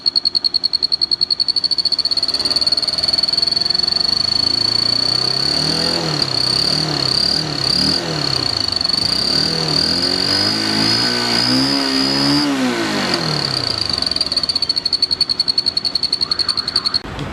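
Turbo whistle fitted to a Bajaj Pulsar 180 motorcycle, a sustained high piercing whistle over the engine that rises and falls as the bike revs up and settles back to idle, with no talking.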